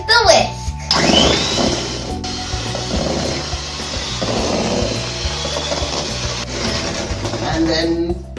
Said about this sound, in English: Now we're going to whisk until it's fluffy